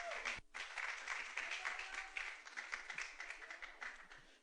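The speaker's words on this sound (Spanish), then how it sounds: "Den un aplauso al Señor," A church congregation claps together during a Spanish-language service, quiet, scattered applause that starts after a brief sound and continues unevenly for several seconds.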